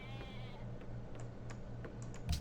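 A faint sheep bleats briefly amid soft ambient sounds in the strategy game Civilization V. Light clicks and ticks follow, like interface or keyboard taps.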